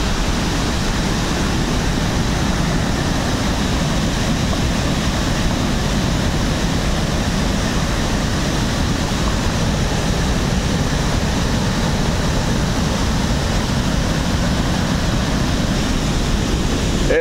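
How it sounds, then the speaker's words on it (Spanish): Pailón del Diablo waterfall in Baños, Ecuador, heard from its upper section: a loud, steady, broadband roar of falling water that runs unbroken throughout, with no voices. "El inicio de la cascada del Pailón del Diablo."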